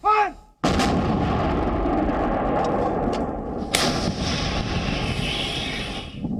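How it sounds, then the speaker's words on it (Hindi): An Indian Army 130 mm medium artillery gun fires during a Thar desert exercise, one huge close blast followed by a long rumbling roar and echo rolling on for several seconds, with a second sharp crack partway through. "थार रेगिस्तान में अभ्यास के दौरान भारतीय सेना के तोपखाने की 130 मिलीमीटर की मीडियम गन को जंग के माहौल में परखा जा रहा है।"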